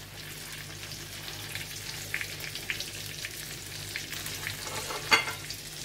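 A salmon fillet frying skin-side down in a hot pan gives a steady, close sizzle and crackle, with a brief clink of a utensil near the end.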